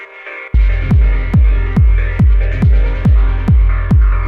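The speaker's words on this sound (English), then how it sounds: "You're gonna see it's a very flangery pad." Flanged synth pad drenched in filtered delay for dub techno, programmed in Ableton, pulsing in a steady rhythmic pattern with deep thumping kick-like hits about every half second and a swirling sustained tone above, no talking.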